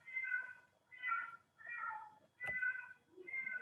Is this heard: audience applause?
no